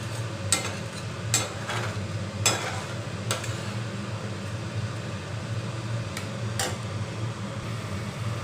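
Bhoger khichuri being stirred and roasted in a pan: a steady low sizzle runs throughout, broken by several sharp scrapes and clinks of the spoon against the pan, close by with no talking.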